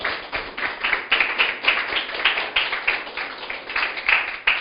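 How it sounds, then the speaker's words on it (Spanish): A church congregation claps along during a Spanish-language sermon, a loose rhythmic run of hand claps with a few louder bursts, steady for several seconds without speech. "Aplauda al Señor."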